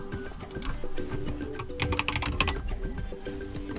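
Someone types on a computer keyboard in a steady patter of soft key clicks, fairly close and continuous, with a faint low background hum underneath.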